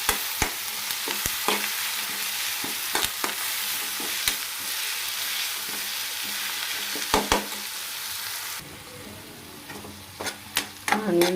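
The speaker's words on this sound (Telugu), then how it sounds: "ఆనియన్స్ వేగిపోయాయండి." Thinly sliced onions frying in a pan with curry leaves, cooking for a tomato egg curry: a loud, steady sizzle with intermittent sharp stirring clicks, easing toward the end.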